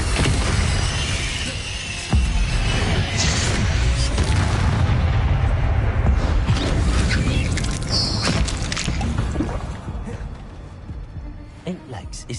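Confringo fire spells in the video game Hogwarts Legacy burst in heavy booming explosions over a dense, loud battle mix, with voices speaking over the blasts.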